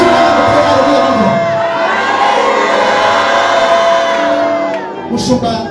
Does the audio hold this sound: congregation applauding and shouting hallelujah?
yes